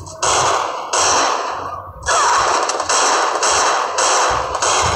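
Bursts of gunfire from Free Fire Clash Squad, a mobile shooter game: several loud, sharp volleys in quick succession with brief gaps between them, close and dominant throughout.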